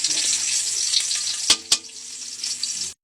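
Garlic sautéing in a pan for squid adobo, a loud continuous close sizzle with two sharp utensil clacks partway through before it cuts off abruptly.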